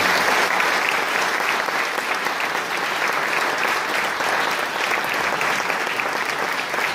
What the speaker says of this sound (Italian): il primo applauso davvero a tutte le persone che ci